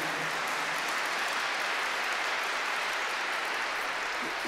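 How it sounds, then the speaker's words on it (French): An audience applauds during a talk in Montréal, a dense, uniform wash of many hands clapping that holds steady for several seconds. "allez applaudissez le bon Dieu qui est si bon avec nous"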